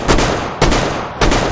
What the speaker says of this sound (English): This gun kicks like a frickin' mule!